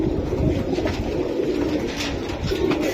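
Soft, low cooing from a pair of Giasulli master pigeons repeats steadily over a constant murmur of background noise, with no clear gaps between calls.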